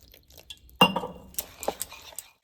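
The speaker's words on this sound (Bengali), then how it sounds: "এটা কিন্তু ঠান্ডা জল নিয়েছি, আর সুন্দর করে একটা গোলা গুলে নেব।" Egg batter is whisked with cold water in a bowl, giving a sharp clink of utensil on glass followed by a run of light tapping, scraping and liquid sounds, close and fairly quiet.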